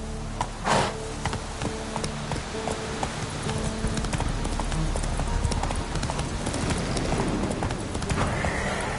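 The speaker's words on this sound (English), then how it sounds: "That's it, Roach." A horse in The Witcher 3 on PS5 gallops with steady, close, rhythmic hoofbeats, whinnying loudly near the start over a game music bed.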